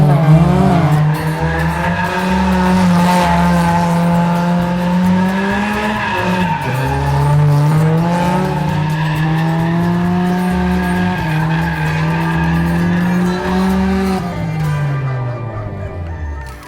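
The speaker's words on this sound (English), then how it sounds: "you got something we can do some burnouts in?" A rear-wheel-drive Fiat powered by a B16 B Type R engine does burnouts, tires squealing loudly and continuously with wavering pitch over a revving engine, close and unbroken for the whole stretch.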